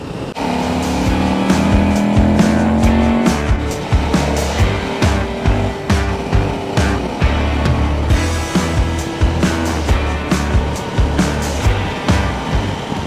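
A motorcycle cruises on an Iron Butt SaddleSore 1000 long-distance ride as it pulls into Romney, West Virginia. The engine drones steadily and close, with pulsing throttle and constant wind and road roar throughout.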